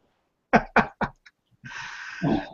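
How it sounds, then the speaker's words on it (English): A short throat clearing: three quick, sharp coughing bursts followed by a raspy, drawn-out rumble, close and isolated. "I've got to take a quick clear my throat here."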